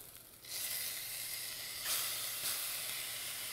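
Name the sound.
pureed ginger and garlic sizzling and steaming in a pan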